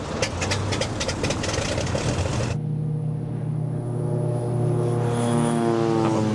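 A propeller airplane engine, the aircraft being readied for a multi-day flight with a crew of pilots, drones steadily and loudly throughout, with a rougher, busier stretch at first before settling into an even, humming tone.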